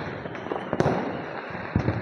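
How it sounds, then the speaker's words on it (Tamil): Fireworks burst at a night festival, a rolling series of booms and crackles, one sharp loud report near the middle and more pops later against a constant noisy outdoor backdrop. "வான வேடிக்கை"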